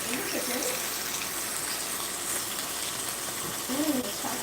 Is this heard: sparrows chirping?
no